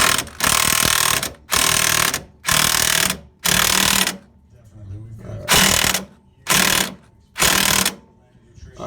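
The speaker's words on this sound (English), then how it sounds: "I don't want to get too crazy with my electric impact" An electric impact wrench hammers in repeated loud bursts, about seven roughly one-second runs with short pauses between, while drawing a lower control arm up into place; a voice talks briefly in a gap.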